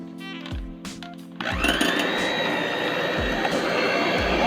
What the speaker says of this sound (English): Take your mixer and mix everything together